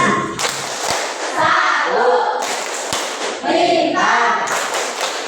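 Rhythmic Tepuk Pancasila clapping by a class at the end of a lesson: bursts of patterned hand claps with a few sharp thuds, alternating with group chanting and a teacher's voice calling out counts.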